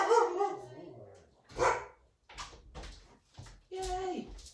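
Several dogs bark and yip in short bursts nearby at a parcel delivery arriving, a few sharp barks scattered over a few seconds, with a person's voice mixed in.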